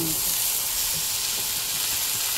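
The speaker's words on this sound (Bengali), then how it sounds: "আলু পেঁয়াজ ভাজা হয়ে গেছে। এবার ঝিঙেগুলো" Ridge gourd pieces frying in a pan with potatoes and onions produce a loud, dense, continuous sizzle and steamy hiss that holds steady throughout, close up with no voices.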